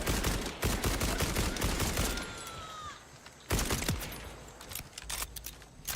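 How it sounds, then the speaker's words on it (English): Submachine gun fire in the video game Borderlands 4 crackles in rapid dense bursts, a long stream breaking off, then a second sharp burst after a short pause, trailing into lighter scattered shots. "Submachine gun."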